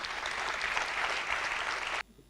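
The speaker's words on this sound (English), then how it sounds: "And I think you need to give them a good round of applause." An audience applauds two marathon athletes, living legends of the sport, with a full, steady round of clapping that holds evenly, then cuts off abruptly near the end, leaving a faint quiet tail.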